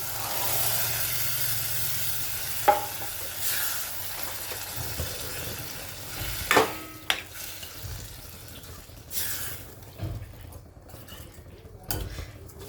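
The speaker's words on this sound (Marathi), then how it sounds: "आता आपण हे हरभरे शिजून घेतलेले कुकरमध्ये एकदम नरम झालेले ते आपण आता हे टाकून देऊ" Pots and utensils clatter in a few sharp knocks over a steady sizzle of frying masala as soft pressure-cooked chickpeas are added for chole masala, with a spoon stirring now and then.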